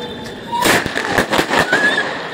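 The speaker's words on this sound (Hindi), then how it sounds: "इसमें छोटे छोटे स्काई शॉट जैसे निकलते हैं, बट क्या ये रियल में स्काई शॉट है?" A small Cock brand sky shot firecracker is lit, giving a fizzing burst followed by a quick run of crackling pops that trails off over a couple of seconds.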